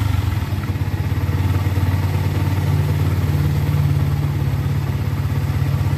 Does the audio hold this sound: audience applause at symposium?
no